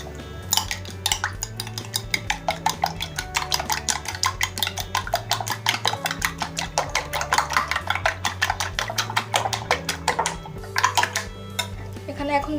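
Two room-temperature eggs beaten for a stovetop Bangladeshi pudding cake: a steady, rapid run of light clicking and scraping strokes against a bowl, close and continuous, with a low background hum underneath.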